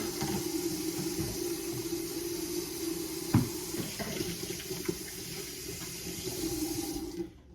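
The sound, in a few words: washing hands under a running sink tap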